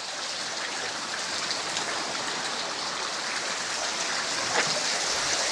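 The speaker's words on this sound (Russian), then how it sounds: "дождей-то прошло много, и смотрите, как все сочится" After heavy rains, water seeps and trickles down the seaside rock cliffs of Malaya Bay in Anapa, making a steady, close, hissing patter that never lets up.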